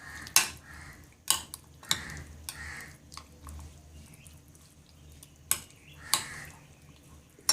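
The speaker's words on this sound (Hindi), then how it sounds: "अब मैं इसे अच्छी तरह मिक्स कर लूँगा। 300 ग्राम चिकन है, आपने इसमें आधा अंडा ऐड करना है।" Spoon scraping and clinking against a bowl while 300 grams of chicken is mixed with half an egg, a few sharp knocks spaced apart over soft wet stirring, fairly quiet and close.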